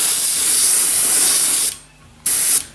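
Hissing airbrush spray of paint under a 7mm-scale Heljan VAA model wagon, close and loud, a long burst that stops, then a second shorter burst.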